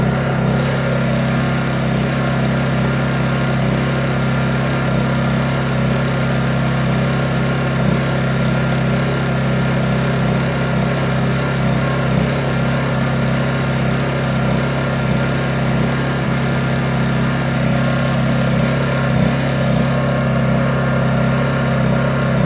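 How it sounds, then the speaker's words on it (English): A Honda EU2200i portable inverter generator runs steadily in an off-grid solar setup, a loud, even engine hum with a constant low buzz heard alone. "we'll see what the Honda generator will do"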